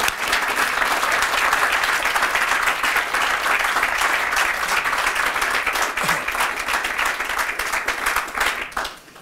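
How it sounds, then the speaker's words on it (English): Sustained audience applause at a retail precinct launch event at The Terrace, many hands clapping loudly and evenly for several seconds before tapering off at the end. "that's very thoroughly deserved applause"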